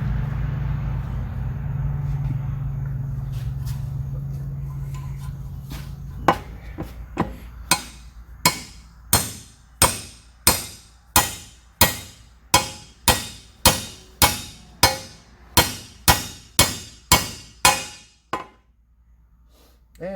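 A race installer driving a bearing race into an NV231 transfer case: after a low hum, about a dozen sharp metallic hammer strikes ring out close and loud in a steady rhythm, their tone changing as the race seats.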